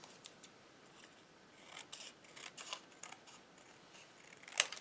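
Scissors snip through paper in a string of soft, close crisp cuts, with a sharper click near the end, quiet and without talk.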